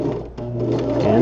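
A sewing machine stitches spandex gloves around finger shapes, running in a loud, steady whir with a brief pause before speeding up again, heard close and alone.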